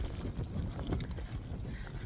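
Wind blowing outdoors, a continuous low rumbling buffet against the microphone with gusty swells, loud and close, with no talk over it.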